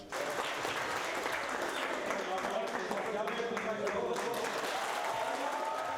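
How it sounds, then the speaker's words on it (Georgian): Spectators at a regional football championship in Kaspi applauding the vice-champion team, a sustained wash of many hands clapping, fairly distant and even throughout. "გულშემატკივარმა არ დაიშურა მხურვალე აპლოდისმენტები ვიცე-ჩემპიონისთვის"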